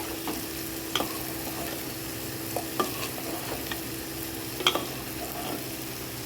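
A spoon stirs payesh, a Bengali rice pudding, in a pot just after sugar is added, giving soft scraping strokes with a few sharper clinks over a faint steady simmer.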